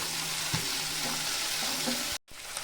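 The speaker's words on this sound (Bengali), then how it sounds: "তো টমেটো কুচি দিয়ে আমি একটু ভেজে নেব" Chopped tomato fries in a pan with browned onion for a koi fish curry, giving a loud, even, continuous sizzle with a few soft knocks, cut by a brief silent gap near the end.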